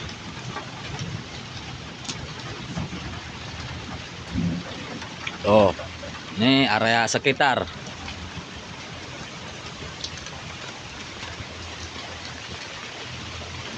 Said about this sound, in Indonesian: Hujan, hujan gede.